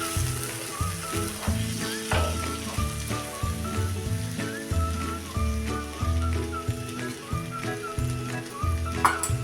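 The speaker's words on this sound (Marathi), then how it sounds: "आता त्यामध्ये टाकूया हे आपण भिजवलेलं पीठ पीठ टाकून हे आपण आता पटपट हलवून घ्यायचं आहे" Soaked flour batter stirred quickly in a hot pan for a crispy vadi snack, sizzling and frying steadily with a rhythmic scraping and stirring pulse throughout, close and fairly loud, with no talk.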